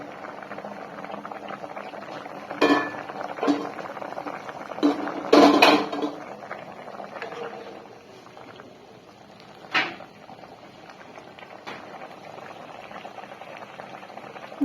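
Chicken and vegetable stew simmering on low heat under a lid: a continuous soft bubbling, broken by several clattering knocks of pot, lid and utensils near the start and once more later.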